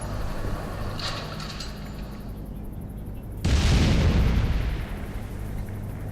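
An explosion in the video game Alpha Protocol bursts in as a sudden loud, broad roar that holds for about a second and then fades into a rumbling tail.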